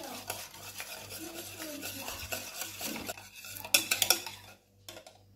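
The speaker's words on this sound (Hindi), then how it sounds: "और इसे अब अच्छे से मिक्स कर लेंगे" Yogurt and mayonnaise for a creamy cucumber salad are stirred together in a bowl, the spoon scraping and clinking steadily against the sides, with a sharper run of clinks near the end before the mixing falls quiet.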